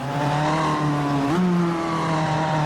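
A prototype race car in the Automobilista 2 racing sim drones loudly at steady revs, its raw engine and exhaust tone holding level, then stepping up in pitch midway as the car accelerates, with no voices.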